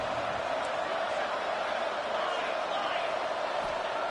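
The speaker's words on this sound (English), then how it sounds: "This crowd is trying to inspire this defense to make a big red zone stop." Stadium crowd roar from a college football video game during a red zone defensive stand, a steady, dense wash of noise filling the whole clip with no clear breaks.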